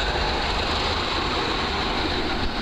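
A tram rolls past close by along the flooded Danube riverside near Eötvös tér in Budapest, a loud, continuous rumbling rush with a faint rail rattle, and no talk.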